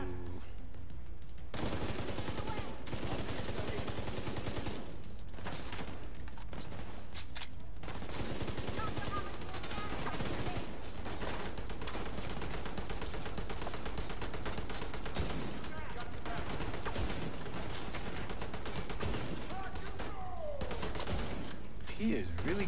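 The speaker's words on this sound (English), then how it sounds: "I got a full-blooded light machine gun" Light machine gun fire in the video game Division 2 rattles in long, loud sustained bursts with brief gaps, nearly continuous and dense, with more gunfire mixed in throughout.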